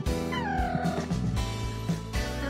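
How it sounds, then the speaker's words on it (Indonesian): A house cat lets out a drawn-out meow with a rising then falling pitch, heard close by and fairly quiet in an indoor room, followed by a shorter second call. "Maaf ya guys, itu ada kucing aku."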